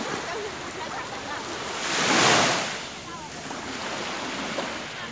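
Waves wash onto the Baltic Sea shore in a continuous roar of surf with steady wind noise. One wave swells louder and breaks midway, then the sound settles back.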